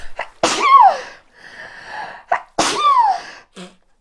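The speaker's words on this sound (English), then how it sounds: "I'm gonna sneeze." Two loud, close human sneezes about two seconds apart, each a sharp burst falling into a gasping tail, with a short breath between them and no speech.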